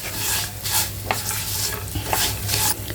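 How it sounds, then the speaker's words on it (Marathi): Roasted varai (barnyard millet) is stirred with half-roasted peanuts in a pan for fasting upma, with repeated scraping strokes over a soft, continuous sizzle. "त्यामध्ये हे भाजलेली वरी घालायची सगळं छान मिक्स करून घ्यायचं"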